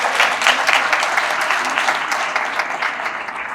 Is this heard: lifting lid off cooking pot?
no